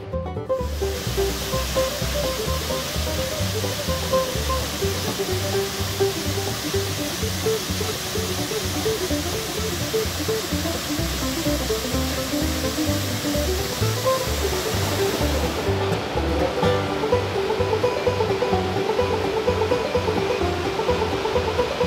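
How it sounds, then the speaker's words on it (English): Lost Creek Falls, a waterfall in White County, Tennessee, pours in a constant, loud broadband rush heard up close, unbroken throughout. "That is Lost Creek Falls."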